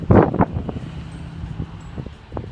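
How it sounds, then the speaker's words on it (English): Gusty wind buffeting the microphone in low rumbling bursts, strongest at the start, with faint rustling in between. "sorry, it's windy here."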